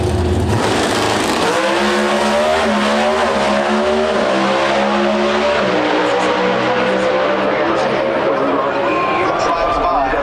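Pro Stock drag race car at an NHRA Route 66 Nationals eliminations event in Chicago, loud engine roar passing by with rising and falling harmonic tones, heavy broadband noise throughout, crowd and announcer voices mixed in.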